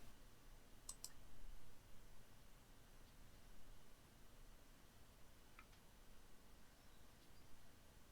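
A computer mouse clicking while working in Hitfilm editing software: a couple of faint, crisp clicks early on and another later, over a steady low hiss.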